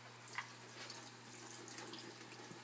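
Liquid pours and splashes steadily from a can of sliced water chestnuts into a sink, a continuous trickling drain with a few brighter drips, close and moderately loud.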